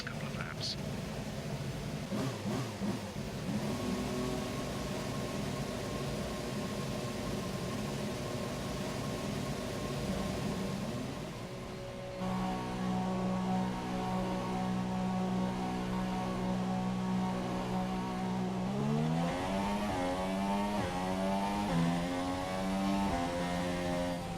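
Renault Formula 1 car in F1 2017 at the Melbourne circuit, a steady whining engine drone that holds pitch, dips briefly, then climbs through rising gear sweeps, loud and continuous throughout.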